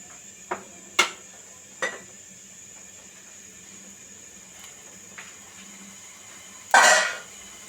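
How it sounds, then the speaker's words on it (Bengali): Polao rice being stirred in a cooking pot: a few sharp utensil clinks against the pot early on, then a louder, longer scraping stir near the end, with quiet gaps between. "আমি নেড়ে চেড়ে বলক তুলে নিচ্ছি"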